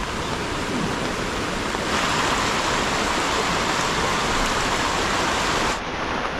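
Light rain falls steadily as a dense, even hiss close by, with no voices present.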